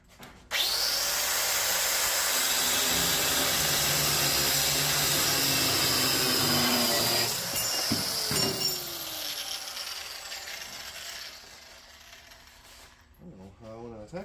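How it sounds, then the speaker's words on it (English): An angle grinder cutting into the metal of a 1978 Ford F100, a loud sustained high whine for several seconds that then drops and winds down, with a brief voice near the end. "I have to cut a curve with an angle grinder"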